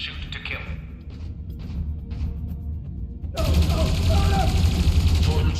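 Video game gunfire from Dreamfall Chapters breaks out suddenly midway as a dense, loud burst of rapid shots, following a quieter stretch of ambient game sound and muffled voices.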